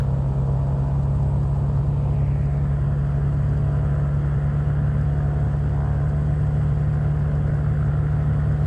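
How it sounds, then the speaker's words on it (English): Piston engine of a Mooney M20R Ovation prop plane cruising in Flight Simulator 2020 drones loudly and steadily, a constant low hum and rumble with an unchanging tone throughout. "I love how this plane sounds as well. It sounds very different to the other piston engine prop planes in Flight Simulator."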